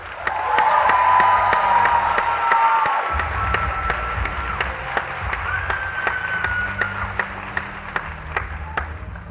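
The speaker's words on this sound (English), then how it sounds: "Let's give them another applause." A large audience at a district Teacher of the Year ceremony breaks into sustained, dense applause honoring the teachers, steady and full for several seconds with a faint voice and background hum beneath.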